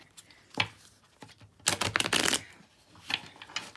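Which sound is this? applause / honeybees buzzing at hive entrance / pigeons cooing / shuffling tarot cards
shuffling tarot cards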